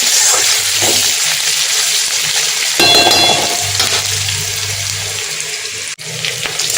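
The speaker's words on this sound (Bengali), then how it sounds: "আর এতে আমি এই যে হালকা একটু লবণ দিয়ে এখন একটু নাড়াই দিই, এই যে ভাজা হইতে থাকে।" Onions fry with a pinch of salt while someone stirs them in the pan, giving a close, steady hiss with scraping. A brighter burst near the middle and a sharp knock near the end break up the sizzle.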